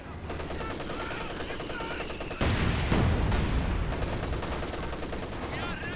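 Rapid bursts of MG34 machine gun fire in the Company of Heroes 2 strategy game, mixed with other battlefield gunfire and explosions, dense and continuous with a louder blast partway through.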